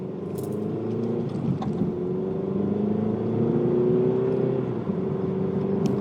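2020 Kia Stinger GT-Line 2.0L turbo AWD accelerating, a moderate in-cabin engine drone rising in pitch twice with a brief dip between, fairly muted and heard alone.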